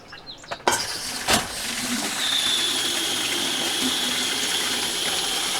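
Water running from a newly installed outdoor hose sillcock: a couple of sharp clicks and knocks, then a steady, fairly loud gushing flow that continues without a break.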